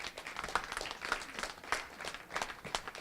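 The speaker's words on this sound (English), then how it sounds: "I think they deserve a big round of applause as well." Audience applause at an Asian Pacific American Heritage Month kickoff event: a crowd claps steadily for a few seconds, the sharp hand strikes fairly distinct, some louder bursts standing out above the general patter.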